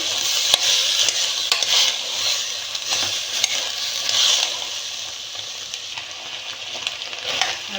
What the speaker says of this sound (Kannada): ಗ್ರೀನ್ ಕಲರ್ ಉದ್ದ ಬದನೆಕಾಯಿನ ಎರಡು ತೊಗೊಂಡಿದ್ದೀನಿ ಅದು ಹಾಕ್ಕೊಳ್ತಾ ಇದ್ದೀನಿ ಚೆನ್ನಾಗಿ ಮಿಕ್ಸ್ ಮಾಡ್ಕೊಳ್ಳೋಣ